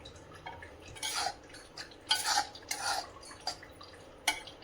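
Roasted flour for homemade son papdi is scraped from a pan onto a plate in a few quiet metallic scrapes and clinks, with soft taps and rustles between them and no talking.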